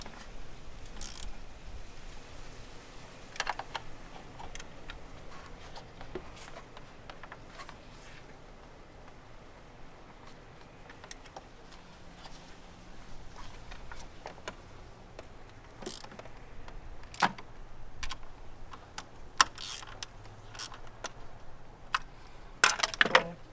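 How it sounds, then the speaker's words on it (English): A regular wrench works the oil filter housing bolts on an E92 BMW 335i, giving intermittent metallic clicks and ratchety clinks scattered over a quiet background, close and fairly faint. "Now we're going to use just a regular wrench because I definitely want to feel it."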